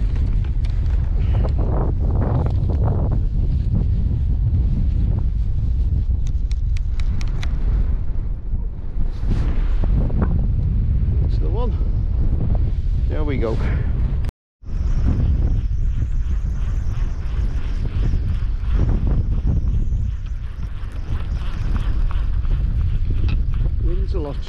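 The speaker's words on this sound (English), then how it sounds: "Wind's a lot stronger than it was forecast as well." Strong wind batters the microphone on the coast at New Brighton, Wirral, during plaice fishing. It makes loud, constant roaring buffeting with one brief dropout partway through, and someone speaks now and then under it.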